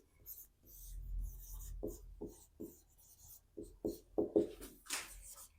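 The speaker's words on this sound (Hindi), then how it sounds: "पहले लिखेंगे, दिया है" A pen or marker writes on a board while a matrices problem is worked out, making faint, soft scratching strokes in short irregular bursts.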